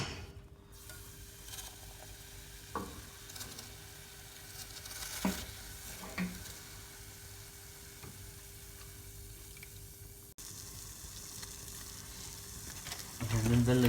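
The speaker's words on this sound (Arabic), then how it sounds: "راح اصب البيبسي داخل هذا" Pepsi poured into a pan for a Pepsi cake fizzes and sizzles as it heats, a steady soft bubbling hiss with occasional clinks and taps, growing louder and busier toward the end.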